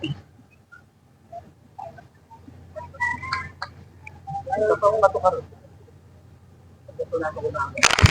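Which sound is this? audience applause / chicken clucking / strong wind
chicken clucking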